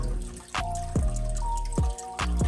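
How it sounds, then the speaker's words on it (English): Water is poured slowly into a new cichlid aquarium tank over sand, giving close, irregular plops and gurgling drips over a steady trickle, with no talk. "the first water going in this tank, I'm gonna pour it nice and slow until we get over the sand"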